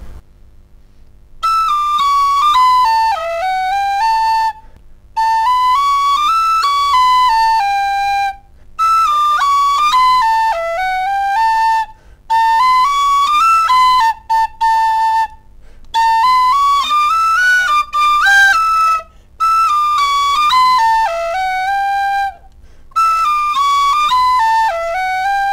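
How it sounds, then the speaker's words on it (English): A tin whistle plays an Irish folk tune, a bright, loud, close melody of clear sustained notes in phrases separated by short breath pauses, with no voices. "So that's the tin whistle."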